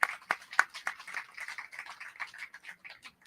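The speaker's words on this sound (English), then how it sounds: "Round of applause for them too." Scattered, light applause from a modest audience at a Freethought Day event: irregular claps, fairly faint, with the first few strongest before thinning into softer patters.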